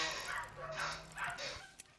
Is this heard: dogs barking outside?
yes